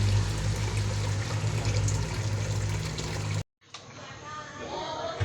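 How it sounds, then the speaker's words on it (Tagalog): Hot water pours steadily onto noodles for sopas in a pot, a close continuous splashing stream that stops abruptly, followed by softer trickling and bubbling. "Lalagyan na po natin ng tubig. Hot water na po ito mga kaasang."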